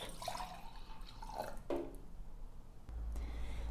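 Warm milk is poured into a glass in a few short, soft liquid trickles and drips, quiet and close, with no talking.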